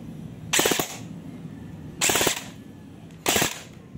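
An upgraded SR25 airsoft electric gun fires three short full-auto bursts, each a loud rapid buzzing rattle about a third of a second long, separated by quiet pauses.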